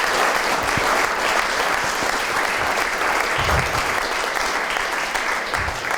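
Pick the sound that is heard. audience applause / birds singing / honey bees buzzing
audience applause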